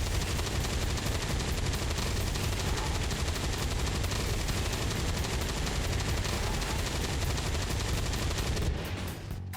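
Dense, relentless automatic gunfire from the Avenger in XCOM 2, a continuous roar of rapid bullets sustained for about nine seconds before cutting off abruptly.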